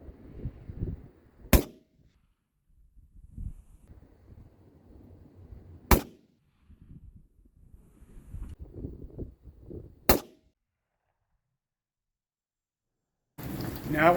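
Three sharp rifle shots fired at a 300-yard target ring out alone, evenly spaced several seconds apart, with quiet outdoor ambience and faint rustling between them and a voice starting at the end.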